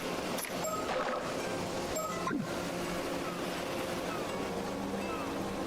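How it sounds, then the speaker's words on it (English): Ocean waves with a murmuring crowd of onlookers in a visual novel game scene, a steady wash of surf and low chatter filling the background at an even level throughout. "The sound of the waves and the buzz from the onlookers fills the air around us."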